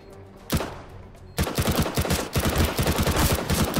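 Rapid automatic gunfire from a CS:GO match: after a single shot, a dense burst of shots begins and rattles on continuously to the end, loud and close, with no talking.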